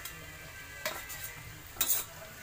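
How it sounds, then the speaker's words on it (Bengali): Garlic paste goes into a pan of frying onions, green and dried chillies and whole garam masala, with a faint sizzle and two brief scraping clinks of a utensil against the pan. "এবার দিচ্ছি রসুন বাটা"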